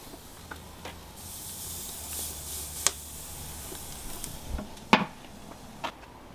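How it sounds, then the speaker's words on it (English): Food laid skin side down on a hot grill sizzles with a soft, steady hiss, broken by a few sharp pops and crackles near the end, with no talking. "Ooh, good sizzle."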